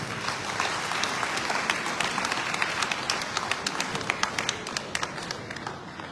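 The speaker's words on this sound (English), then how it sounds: "Please, another round of applause for Mr. Ibile Eko, SAN." An audience claps in sustained applause at the Ibile Eko summit in Lagos, a dense wash of many hands with a few sharper claps standing out near the front, steady from start to finish.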